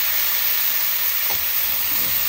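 Chicken hits a hot pan of sautéed onions for a curry and sizzles loudly and continuously, a dense, close frying hiss throughout.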